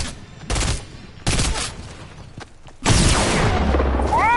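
Gunfire in a 1v1 battle video game, with bursts of rapid shots and booming blasts in separate volleys, loud and close, the last burst running on with dense, sustained firing.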